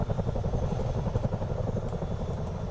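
A Chinook helicopter in Microsoft Flight Simulator 2024 gives a steady, throbbing rotor drone with a rapid low beat. The sound holds loud and even throughout, with no talk over it.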